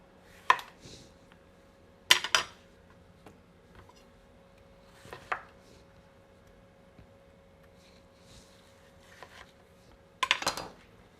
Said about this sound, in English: so I'll transfer all this into the larger bowl.